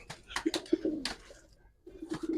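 Giribaz pigeons coo repeatedly inside a loft, close and clear, in short throaty bursts that pause briefly before starting up again.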